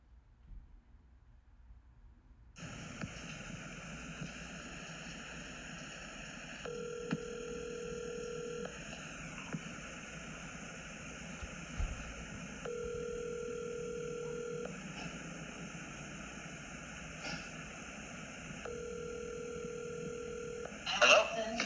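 A phone call: after a short silence a hissing line opens, then three long ringback tones sound at even intervals, with faint clicks and a brief blip near the end.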